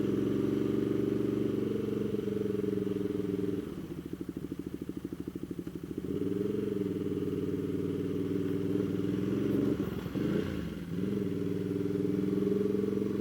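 Ducati Multistrada motorcycle engine on a touring ride, a steady loud drone that dips into a pulsing, lower throb mid-ride, then swells back with a brief shift around the end.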